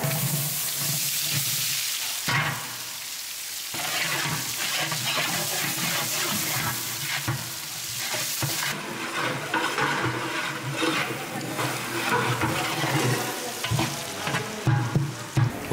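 Three kilograms of onions fry and get stirred in a large pot with cardamom, cinnamon, cloves and bay leaves, a loud steady sizzle with scraping stir strokes throughout, outdoors on a farm for bulk bagara rice.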